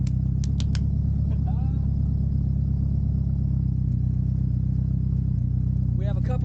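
A turbocharged front-wheel-drive Nissan SR20DE idles just after its first start, a loud, steady low rumble with fine clattery pulses, close up, with a few short squeaks and a voice briefly over it.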